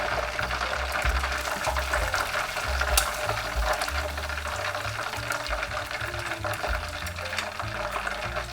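Japanese-style chicken karaage pieces fry in hot oil, a continuous dense crackle and sizzle with occasional stirring clatter, close and steady throughout.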